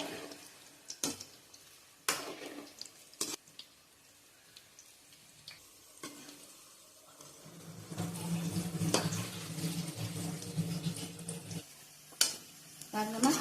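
Onion pakoda batter fritters frying in hot oil in a home kitchen, a soft continuous sizzle with occasional stirring clinks, growing louder and denser midway as fresh pieces bubble, with a few sharp utensil knocks.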